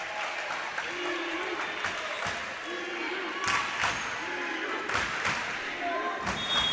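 Taylor students cheer and applaud in a gym after a volleyball point, a sustained crowd roar with thumps from the court, while an announcer talks over it.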